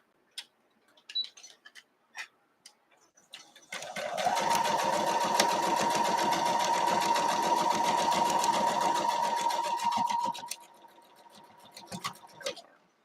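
A sewing machine runs steadily for about six seconds while stitching a quilt block, preceded and followed by light clicks and handling noises of the fabric and machine.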